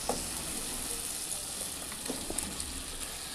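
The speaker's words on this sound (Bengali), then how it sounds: "এখন আমি মাংসটা দিয়ে মশলাটা নাড়াচাড়া করে নেব" Chicken sizzles and crackles steadily in hot red spice paste with a little oil, a dense continuous frying hiss with a few soft stirring scrapes.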